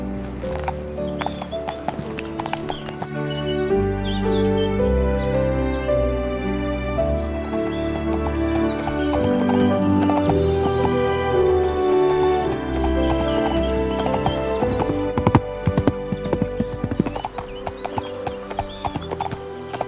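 A horse clip-clops steadily on a ride and neighs now and then, under continuous music that plays throughout the whole stretch.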